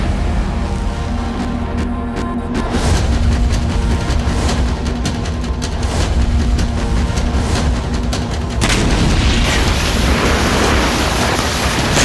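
Artillery cannons fire as part of a Chinese weapons lineup, heavy booming blasts rolling over a dense, loud rumble with no pauses and no talking.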